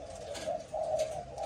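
A spotted dove coos nearby in a low, steady repeated call, three soft rounded phrases in quick succession over faint background hiss.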